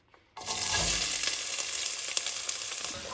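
Onions drop into hot oil with fenugreek seeds and dried curry leaves for a leafy greens curry, a sudden burst of frying that settles into a steady close sizzle with small crackles, no speech.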